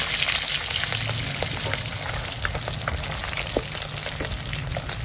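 Bhetki fish sizzles loudly and continuously in hot oil, a dense close crackle with scattered sharper pops and spits.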